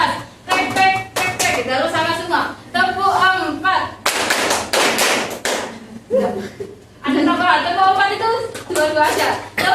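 Bursts of rhythmic group hand clapping from a class during a lesson alternate with a voice giving instructions, the claps sharp and close, repeating in short sets.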